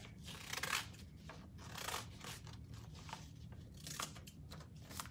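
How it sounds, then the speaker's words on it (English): Scissors snip and crunch through paper in several irregular cuts, close and fairly quiet, with soft rustling in between. "So try to cut on those lines. Open your scissors."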